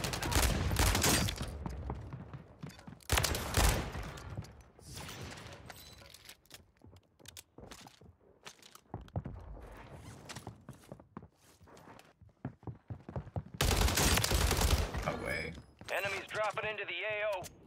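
Gunfire rips through a Warzone 3 firefight in loud, separated bursts, with the heaviest volley near the end, between quieter stretches of footsteps and movement.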